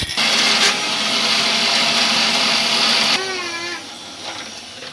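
Mixer grinder whirring loudly and steadily as it grinds lentils to a smooth paste, then cutting off and winding down to a quieter hum near the end.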